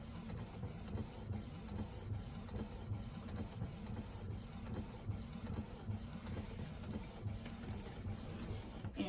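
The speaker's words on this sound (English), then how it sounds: "I'll go ahead and leave it regular speed time so you can see about how long it takes to print these cards." A Canon MX922 inkjet printer feeds PVC cards, giving a steady mechanical whir broken by regular clicks and carriage passes that carry on evenly throughout at a moderate, close level, with no talking.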